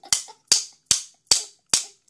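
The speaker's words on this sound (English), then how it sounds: "So we bang them really hard and we get the nails in." A toy hammer bangs nails into wood with five sharp, evenly spaced knocks about half a second apart, each one loud and close, with brief rattles between the hits.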